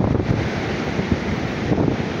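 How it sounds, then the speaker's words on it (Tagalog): Strong ocean waves surge against a rocky beach in a continuous roaring wash, with heavy wind buffeting the microphone throughout the short stretch. "Tingnan nyo yung alon dito."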